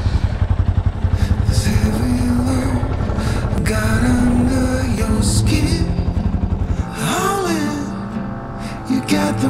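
A motorcycle being ridden on the road after a battery failure early in a 4000 km trip, its engine a loud, steady drone with rising and falling revs and a clear shift in tone near the end.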